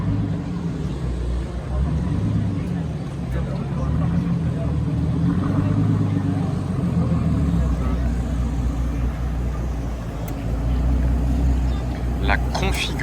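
A McLaren 720S sports car reverses, its engine giving a low, steady rumble that swells slightly midway, with someone talking over it.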